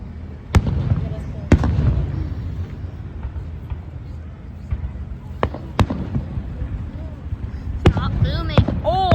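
Fifth of July fireworks boom in several sharp, separate bangs spaced a few seconds apart, fairly close and loud, with people talking and murmuring between the blasts.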